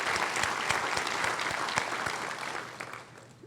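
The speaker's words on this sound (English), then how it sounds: "I think that deserves a round of applause." Audience applause fills a room at a business and education partnership awards event, steady dense clapping that holds strong for about three seconds before tapering off slightly at the end, with no speech over it.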